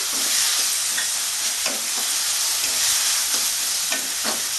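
Ginger, garlic and green chillies fry in a pan for a mutton liver dish, giving a steady loud sizzle with a few soft stirring scrapes beneath, no voices.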